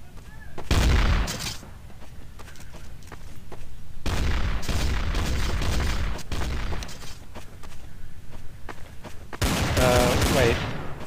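AK rifles fire in Counter-Strike: Source in three loud, close bursts of rapid shots separated by brief lulls. Scattered background gunfire runs throughout.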